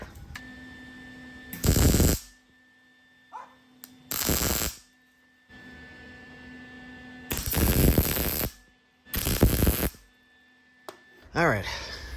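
Welding a part on a 1996 Honda Civic EK hatchback, with several short bursts of harsh buzzing arc crackle, each a second or two long, separated by quieter gaps filled with a steady electrical hum.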